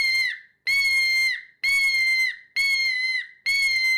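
Five loud, drawn-out shrill screams, each falling slightly at the end and separated by short gaps, imitating a red-shouldered hawk on a Ninja Hawk game call, with no voices.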